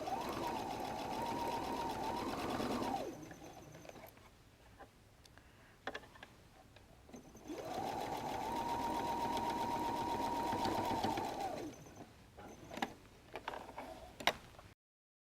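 Sewing machine basting a bag flap in place, two sustained runs of whirring stitching separated by a quiet gap with small mechanical ticks and clicks, close and clear, no voice.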